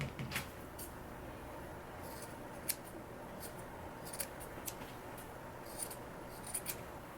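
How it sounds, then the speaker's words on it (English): Scissors trimming a fabric seam on a sewn waistband, soft close snips scattered irregularly over faint background hiss, each cut brief and quiet. "I'm going to go ahead and trim my seam"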